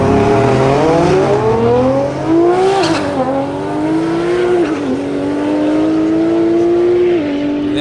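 A Nissan GT-R launches hard in a drag race, its engine note climbing loudly and steadily through several gear changes, each shift dropping the pitch before it rises again, with crowd and track noise beneath.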